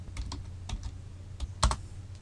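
Light typing on a computer keyboard, a handful of soft irregular key clicks with a slightly louder tap near the end, close and quiet.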